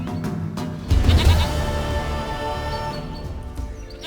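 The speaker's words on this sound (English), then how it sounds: "Goat of mine, dearest, sweetest goat." A goat in The Witcher 3 lets out a close, wavering bleat, a loud quavering cry that swells briefly and then trails off over soft ambient background sound.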